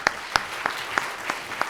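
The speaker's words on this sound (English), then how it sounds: "round of applause for the panel" A few sparse, sharp claps ring out one after another after a conference panel, isolated hand claps rather than a full crowd ovation.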